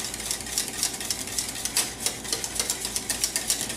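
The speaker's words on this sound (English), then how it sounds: "So just whisk that in." A whisk scrapes and clicks rhythmically in a pan as grated Parmesan cheese is stirred into a sauce off the heat, producing quick repeated metallic strokes, close and moderately loud, with no talking.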